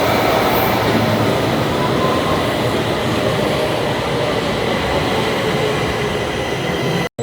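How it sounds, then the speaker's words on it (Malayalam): Underground metro train in Stockholm pulling into a station, a steady loud rumble of wheels and motors filling the platform throughout before cutting off abruptly at the end. "അപ്പോൾ ഒരു മെട്രോ വന്നിട്ട് ഇതിൻ്റെ അകത്ത് കയറാം"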